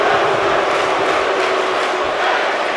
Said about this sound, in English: This crowd here really into this matchup, really into the buy-in show here at Wembley Stadium